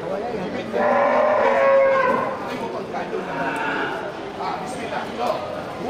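Water buffalo mooing at a livestock market among large bulls ready for slaughter; a loud drawn-out low call rises early, with other lowing and crowd noise after, and people talking throughout.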